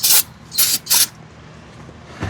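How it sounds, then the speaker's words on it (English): Three short hissing bursts of spray cleaner aimed at threads during maintenance on a 2013 Honda Civic Si, each blast close and loud, with a quiet pause and a faint knock at the end. "So we're gonna do one more spray."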